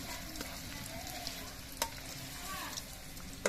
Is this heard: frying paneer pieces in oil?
yes